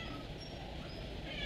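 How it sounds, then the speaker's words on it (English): A pet cat meows once, close and drawn out, over a noisy indoor background. No one speaks. "my cat scares daylights out of me."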